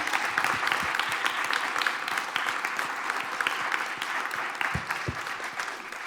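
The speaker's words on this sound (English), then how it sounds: "let's give a big round of applause to Matthew." An audience applauds after a talk on disability, public health and e-sports, a full room of sharp, dense clapping with a few louder individual claps standing out, continuing steadily for several seconds.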